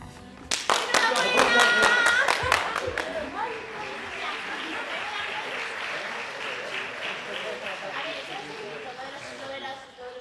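Theatre audience applauding at the end of a play, a dense burst of clapping that swells and then continues steadily, with talking mixed in.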